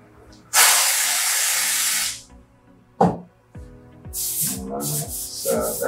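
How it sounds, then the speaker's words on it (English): A loud, steady hiss of cold spray onto metal heated by an induction dent-repair machine, lasting about a second and a half, followed by a sharp knock and some clattering, rustling handling noises. "let's try to quench it with some of the cold spray."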